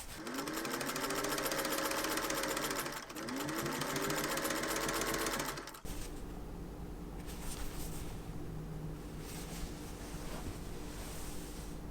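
A sewing machine hemming pajama pants runs loud and steady in two bursts for about six seconds, with a brief pause between them, then gives way to softer rustling and handling noise.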